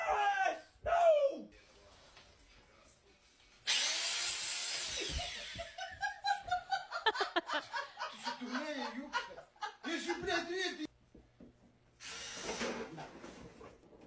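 A handheld power drill runs in short bursts as a prank, its whine broken up between laughter and a speaking voice.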